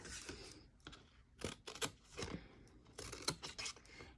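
Scissors snip slivers off a cardboard box piece in a quiet room, a string of sharp, close cuts and rustles coming in uneven bursts.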